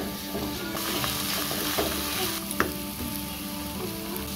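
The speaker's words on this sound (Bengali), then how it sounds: "লঙ্কার গুঁড়ো, হলুদ গুঁড়ো, জিরে গুঁড়ো আর ধনে গুঁড়ো দিয়ে মশলাটা আমি ভালোভাবে কষে নেব।" Ground chili, turmeric, cumin and coriander powders with salt frying in a pan for Kashmiri-style vegetarian potato curry, a steady close sizzle with scraping stir strokes and occasional spoon clicks throughout, no talk.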